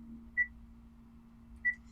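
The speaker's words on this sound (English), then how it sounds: "so if you hear beeping, I'm warming back up my noodles." Two short, high microwave beeps about a second apart, clear and moderately loud over a faint steady hum.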